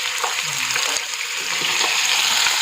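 Bone-in chicken breast pieces frying in a little oil in a pan for milk chicken karela, giving a continuous bright sizzle with some stirring clatter, close and fairly loud.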